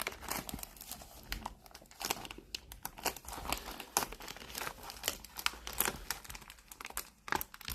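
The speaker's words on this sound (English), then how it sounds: "remembering scissors only helps if you cut the box open well, or the wrapper open well" A trading card box wrapper is torn and pulled open close up, a dense run of crinkling and rustling plastic with sharp tearing bursts throughout.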